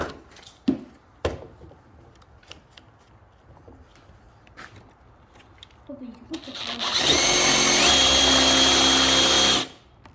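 A power drill bores a hole in wood while building a sleigh: scattered knocks and handling clicks, then a loud steady whine running continuously for about three seconds before stopping abruptly.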